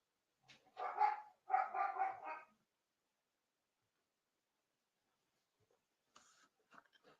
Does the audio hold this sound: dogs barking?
yes